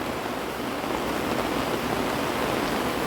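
Rain pours steadily on a jungle farm house, a dense unbroken hiss that stays even and fairly loud throughout.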